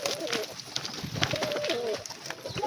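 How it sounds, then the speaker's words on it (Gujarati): Domestic pigeons kept at a home loft cooing close by, several soft rolling coos repeating over steady background noise. "આ છે આપણા કબૂતર"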